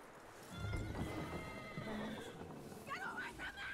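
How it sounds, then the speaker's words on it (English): A horse whinnies and its hooves clip-clop in Red Dead Redemption II, the neigh rising clearly near the end over game ambience and a voice. "That looks like a decent horse."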